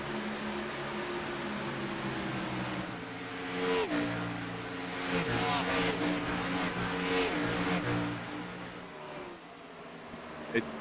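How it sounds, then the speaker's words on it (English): Race cars storming through turns 1 and 2 at Homestead Miami in the iRacing game, a steady layered engine drone with pitch sweeps as cars pass, continuous and moderately loud. "See these cars storming their way through turns 1 and 2"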